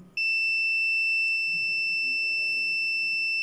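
A continuous high-pitched multimeter continuity beep holds steady without a break while testing a Logitech S-220 speaker amplifier, faint room noise underneath.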